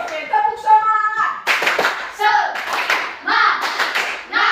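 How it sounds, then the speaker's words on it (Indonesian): A classroom of students does a rhythmic spirit clap with a teacher, bursts of sharp hand claps alternating with chanted voices in a patterned call-and-response. "Oke, tepuk semangat."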